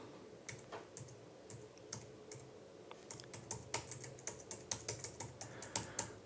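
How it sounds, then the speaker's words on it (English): Keys on a computer keyboard connected to a serial terminal tap out in irregular bursts of sharp clicks, close but quiet, growing denser toward the end with no voices. "I type on the keyboard"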